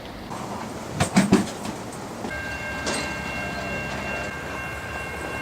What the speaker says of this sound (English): As you can see, the train is off in the distance, quite a ways.